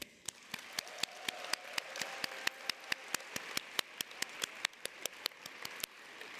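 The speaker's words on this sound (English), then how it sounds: "can I ask humbly for a round of applause for the extremely dedicated, hardworking, and passionate Netroots Nation staff" Audience applause for conference staff at a Netroots Nation keynote, heard as a steady run of sharp, separate claps about a quarter second apart. They sound like a modest group clapping, moderately close, with a faint tone under them and no talk.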